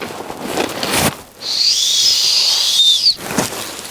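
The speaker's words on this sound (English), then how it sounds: "and here it has a little whistle," A small whistle on a The North Face Borealis backpack strap is blown once in a shrill, steady high tone lasting under two seconds, with rustling handling noise before and after.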